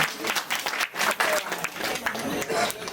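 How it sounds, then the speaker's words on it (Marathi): Hearty applause from an audience at a family Navratri festival bhajan and prize-giving ceremony, a dense, steady burst of clapping lasting the full few seconds. "जोरदार टाळ्या होऊ द्या."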